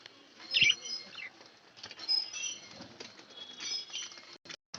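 Caged budgerigars flutter their wings in agitated bursts, with short chirps and tweets scattered between the flapping, close and fairly quiet.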